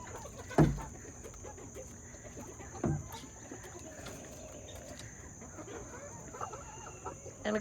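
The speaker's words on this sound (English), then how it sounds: "chickens roosting." Backyard chickens given a whole head of cabbage hung on a rope, with a few sharp clucks and squawks at separate moments over quiet coop ambience and a faint steady insect-like hum.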